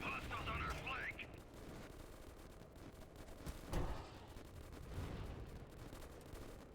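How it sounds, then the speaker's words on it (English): Gunfire barrage in the 2005 PC video game Delta Force Xtreme, a dense crackle of shots and rumbling impacts under battle noise, with one louder blast near the middle, fairly faint overall. "Look at the barrage of bullets out there."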